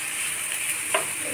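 Capsicum, tomato and onion frying in oil in a pan, a constant close hiss of sizzling with a soft scrape of stirring near the end.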